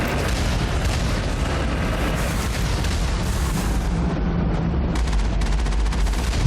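Heavy turret fire in the Mass Effect video game, a dense, continuous barrage of booming blasts and rapid shots that stays loud throughout with no pauses.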